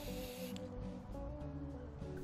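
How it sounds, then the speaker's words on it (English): Rust-Oleum clear gloss, fast-drying, UV-resistant aerosol sprayed onto a small solar panel of a pathway light, a steady hissing burst for about half a second, then quieter background. "using this clear gloss, fast drying, non-yellowing, UV resistant spray from Rust-Oleum, we're going to quickly apply this to the solar panel."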